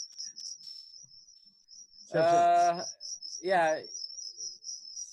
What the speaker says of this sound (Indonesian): Itu jangkrik dari desa tuh nemenin saya nih sekarang.